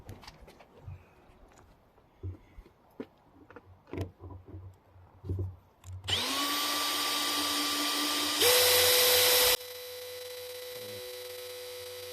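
A power drill whirs up loudly after some handling noises, drilling a hole in a 4x4 vehicle to install a CB radio, its motor whining steadily, surging briefly higher, then settling to a lower hum.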